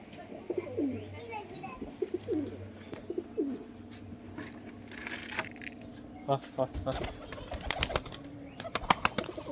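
A newly bought pair of Mayna-jak pigeons coo in low, repeated rolling calls at close range, with clattering and scuffling around them and a person speaking in the background.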